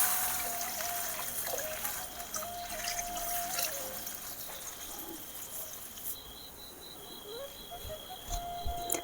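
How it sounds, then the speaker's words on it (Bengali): Broth poured into a rohu fish curry cooking in a village kitchen: a soft, steady liquid trickle under outdoor ambience with birds cooing and chirping throughout. "এই যে আমি আমার পরিমাণ মতো ঝোলটা দিয়ে দিচ্ছি।"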